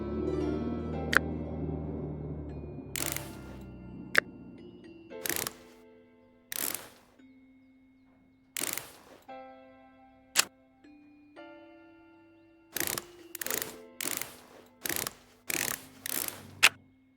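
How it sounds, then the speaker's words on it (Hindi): In the Electrician Simulator video game, screws are driven into small parts during assembly: a run of short, sharp mechanical clicks and ratchety bursts at irregular intervals, with faint steady tones underneath and no talking. "साथ ही साथ इनमें स्क्रू भी लगा देते हैं।"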